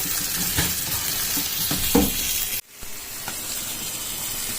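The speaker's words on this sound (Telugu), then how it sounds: "చూడండి ఇంకో దోశ వేసుకున్నాను" Jowar (sorghum) dosa batter sizzles steadily on a hot pan, a close, continuous frying hiss with a few soft scrapes, briefly cut off near the middle before the sizzle resumes, with no talking.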